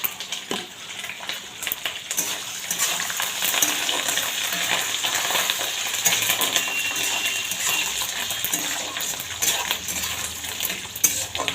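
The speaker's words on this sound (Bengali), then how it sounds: "এগুলো আমার ভাজা হয়েই গেছে এতে এবার আমি কারি পাতাগুলো দিয়ে দেবো" Curry leaves dropped into hot oil with fried ingredients in a pan, a loud dense crackling sizzle with clinks of a spoon against the pan, continuous and close, no talking.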